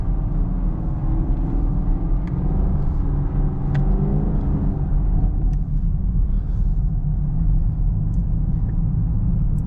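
A Chevrolet Camaro with an LT1 engine driving through snow, a steady low rumbling drone with a slight rise in revs early on, continuous and fairly close throughout.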